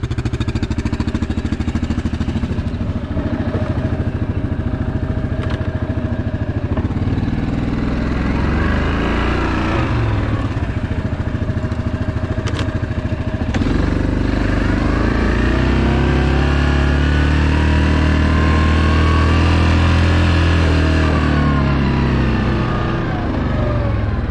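A Yamaha Grizzly 700 SE ATV drones loudly and continuously as it rides west down a rail bed toward Madawaska on a mild, windless April day, the engine note rising and falling with throttle and no talk.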